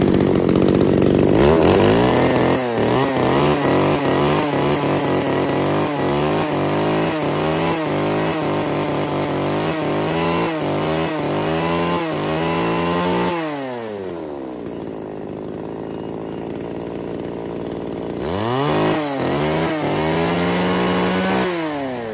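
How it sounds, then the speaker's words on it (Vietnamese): A small, light Japanese mini chainsaw of about 3.5 kg runs loudly nearby, revving up and down repeatedly, then drops to idle before revving again, with no talking. "Cần một chiếc máy cưa mini nhỏ nhẹ đấy ạ."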